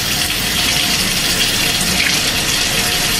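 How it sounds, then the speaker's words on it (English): Milk is poured steadily into a cooking mixture, a continuous close gushing splash that stays even in level for several seconds with no talking. "I got some milk, so I'm gonna do like 1/2 cup of milk."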